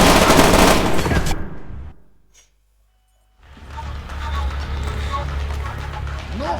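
Automatic gunfire rattles loudly in the Splinter Cell: Chaos Theory video game, a dense burst that cuts to near silence, then resumes with more rapid shots and rumbling under soldiers' voices.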